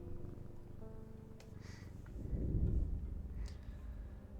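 A cat purring in the video game Strange Antiquities: a soft, low, continuous rumble that swells in the middle, quiet and close, with faint chime-like game sounds above it.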